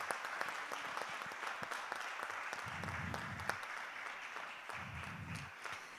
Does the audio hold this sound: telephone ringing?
no